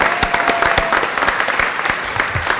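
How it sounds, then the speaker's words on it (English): An audience at a high school graduation ceremony applauds members of the board of education with dense, steady clapping and a few louder individual claps, continuous throughout. "let's give them a round of applause"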